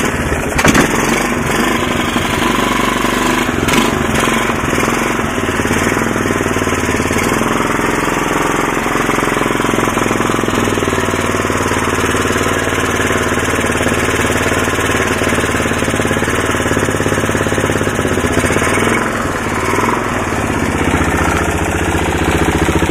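A 2000 Kawasaki Lakota ATV engine idles loud and close after a cold start with the choke on, a continuous rough, knocking putter with uneven pulses throughout.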